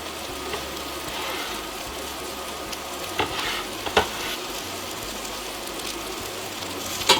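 Spinach and cheese filling for stuffed portobello mushrooms is stirred in a hot pan with the burner off, a soft continuous sizzle under occasional spoon scrapes and taps, close up and with nobody speaking.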